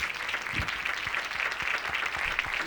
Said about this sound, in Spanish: Un fort aplaudiment per ell, por favor